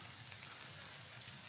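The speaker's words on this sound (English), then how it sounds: "heavens have opened and it started raining" Rain falling outdoors at night as a steady, faint, even hiss of drops on surfaces, continuous with no other distinct sounds.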